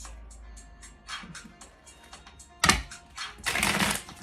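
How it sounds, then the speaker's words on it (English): Decks of cards are shuffled by hand in a quiet room. Light, quick ticking riffles build into a louder burst of rapid flutters, and a final longer riffle closes it out. Nobody speaks. "Right now I'm just shuffling the decks."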